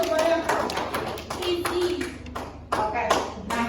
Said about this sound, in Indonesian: Boleh tepuk tangan dulu semuanya.